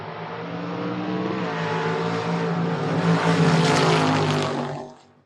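Drag race cars, a Thunderbird and a 1972 Pontiac Firebird, launch at a drag strip with a loud, rising engine roar that builds and climbs in pitch before cutting away sharply near the end.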